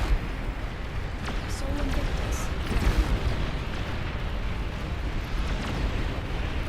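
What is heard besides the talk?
long-range plasma cannon fire in game Beyond All Reason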